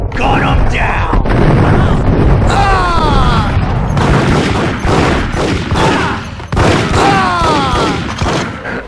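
Rapid gunfire bursts and booming shots fill a Max Payne action sequence on PlayStation 4, loud and dense with echoing impacts, while a voice shouts over the din.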